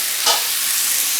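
Steady sizzling hiss of chicken frying in a pan, with a brief louder crackle near the start.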